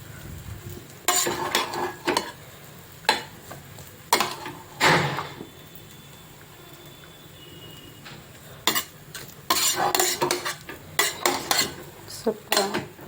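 A metal ladle clanks and scrapes inside a pot of freshly cooked vegetable pulao, in irregular close bursts of clinks separated by brief quiet gaps, with no talking.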